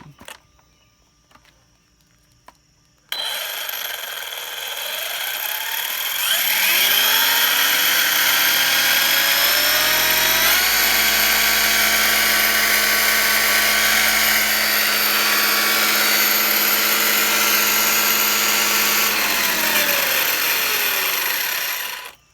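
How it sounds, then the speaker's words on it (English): Arrma Kraton EXB 1/8-scale RC monster truck drivetrain with a faulty differential, spinning up into a loud, steady high-pitched whine with gear noise, holding for about fifteen seconds before winding down; no one speaks. "Definitely there's less gear noise than there was. And at slow speed it seems to spin fine"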